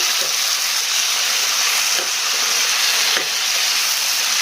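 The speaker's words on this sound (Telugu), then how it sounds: "ఒకసారి గట్టితో మొత్తం కలిపేసేయాలి" Broad bean curry with tomato pieces being stirred in a pan: a steady loud sizzle runs throughout, broken by a few soft scrapes of the spoon, with no talk.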